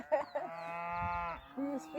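A cow on a farm on a Patagonia backroad gives a single sustained moo in the middle, with brief talk before and after it.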